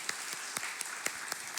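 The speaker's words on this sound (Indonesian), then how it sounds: "Kita tepuk tangan bagi Tuhan." Church congregation clapping hands at an Easter Sunday service, seven sharp claps in a steady rhythm, moderately distant and fairly quiet, with no one speaking.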